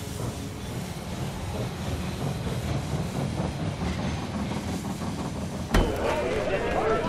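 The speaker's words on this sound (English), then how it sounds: "The train has arrived at the station." In the strategy game They Are Billions, a train arrives at a station with a continuous rolling rumble and a sudden sharp hiss-like burst near the end.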